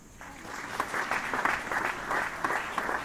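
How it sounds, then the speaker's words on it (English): An audience at a literature festival speakers' session claps for a speaker, a moderate, fairly distant round of applause that swells and holds steady for a few seconds with no talking. "We can have a clap for him."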